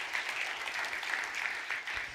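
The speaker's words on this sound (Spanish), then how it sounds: "Le da ese aplauso fuerte." Strong, dense applause from a church congregation during a sermon, a steady even roar of many hands clapping with no voices on top.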